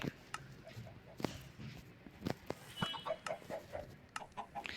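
Chickens in a Minecraft chicken farm cluck softly and repeatedly, with scattered short clicks and taps forming a busy, low-level patter of game sounds.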